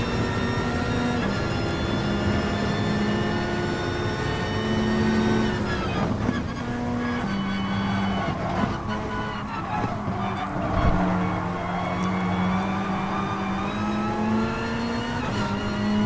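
Race car engines in Gran Turismo Sport drone and rev loudly and steadily, with pitch rising and falling through gear changes and braking in a close, continuous roar, with no voice over it.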